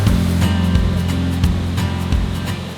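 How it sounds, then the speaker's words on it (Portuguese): Skradin waterfall in Krka National Park gives a loud, steady roaring rush of falling water, heard up close with no pauses. "Essa aqui é a tal da cachoeira do Skradin."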